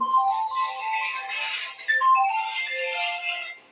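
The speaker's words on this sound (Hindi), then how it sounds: "फोन आ गया था" A mobile phone rings with a melodic electronic ringtone during a physics lesson, a bright, continuous tune of stepping tones heard close and alone for several seconds.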